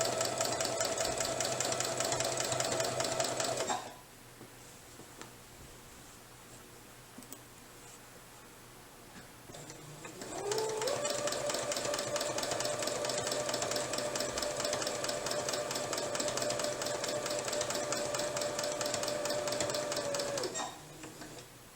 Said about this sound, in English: this is exactly what it'll be like when you're quilting, like I said, a queen size on your domestic sewing machine